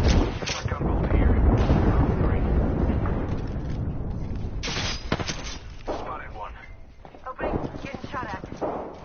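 Dense gunfire and explosive booms roll through a LootinAndShootin match, loud and continuous, with sharp cracks standing out near the middle and toward the end. Players talk over the shooting.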